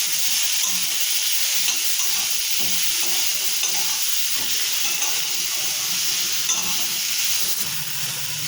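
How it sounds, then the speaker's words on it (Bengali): Food frying in a pan with salt and turmeric, stirred continuously: a steady close sizzle and hiss with soft scraping and clatter of the spoon throughout, no talking. "এর ভেতরে পরিমাণ মতো নুন আর একটু হলুদ দিয়ে দিলাম। এবার এটাকে নাড়াতে হবে।"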